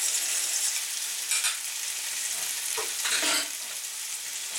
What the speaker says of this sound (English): Give it a little mix up.